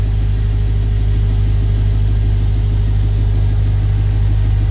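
An LS1 V8 on an engine run stand idles steadily, a loud, close, even low rumble with a regular pulsing beat and no voices.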